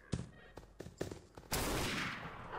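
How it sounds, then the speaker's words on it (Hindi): Gun firing in a Granny House zombie-mode horror video game, several separate sharp shots in a row, then a sustained loud burst of noise toward the end; no talking. "एक एक बुलेट चल रही है"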